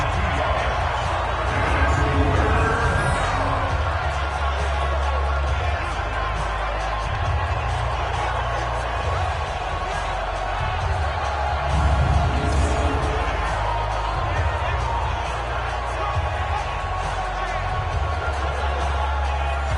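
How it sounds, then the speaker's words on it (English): An NFL stadium crowd at a 2023 NFC Divisional Round game roars in a steady, far-off wash, rising slightly in places under continuous commentary. "the crowd getting into it"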